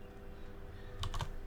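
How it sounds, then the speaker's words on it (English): A few quick keystrokes on a computer keyboard while commands are typed in R, a short faint cluster of clicks near the end after quiet room tone. "So firstly, I'm just typing some commands."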